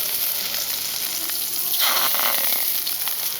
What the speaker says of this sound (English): So I'm going to sear the scallops quickly.